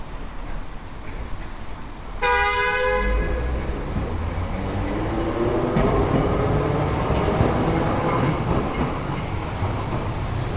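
A Coca-Cola themed train sounds a loud horn blast, then keeps rolling past with steady rumbling and clattering wheels over the rails, and no one speaks.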